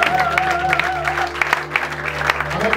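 A church congregation at a pastor's ordination claps and cheers continuously over steady organ or keyboard tones, with a lively crowd sound throughout.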